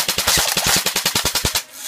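An airsoft gun fires blind in a rapid, evenly spaced burst of about a dozen sharp, close shots over under two seconds, then stops.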